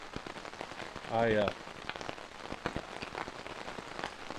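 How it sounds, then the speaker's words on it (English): Hard, steady drizzle patters on leaves and ground in Hiawatha National Forest, a dense continuous hiss with scattered drop taps; a brief tonal sound rises midway through. "I would call this a hard drizzle, not really a downpour"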